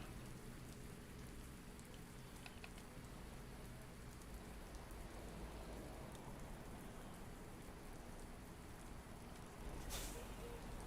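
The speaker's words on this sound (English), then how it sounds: "I'll stay outside the cab just to kind of enjoy the rain" Steady rain pouring down in American Truck Simulator, heard from outside a truck cab as a dense, even hiss of drops on surfaces, with a brief louder splash near the end.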